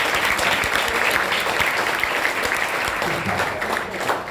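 Audience at a motivational class at a college in Jagtial clapping together, a dense, steady burst of applause that fills the room for several seconds.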